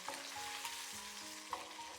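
Cumin-seasoned chicken breast sizzles in a lightly oiled nonstick pan, a steady close frying hiss with small pops and the occasional clink of turning the meat.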